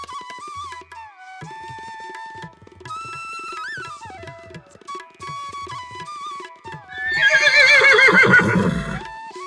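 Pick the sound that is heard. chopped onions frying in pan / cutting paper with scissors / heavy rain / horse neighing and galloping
horse neighing and galloping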